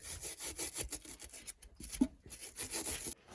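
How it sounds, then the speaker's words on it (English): A wire brush scrubbing a part on a 1971 Ford F600, rapid rough rasping strokes in short irregular bursts, close and fairly loud with a brief pause midway. "A little wire brush action probably wouldn't hurt either."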